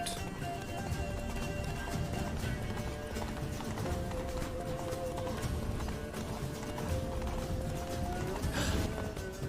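Roach, Geralt's horse in The Witcher III: Blood and Wine, at a full gallop. A fast, continuous clatter of hooves carries on throughout over a constant in-game background, with a neigh briefly audible.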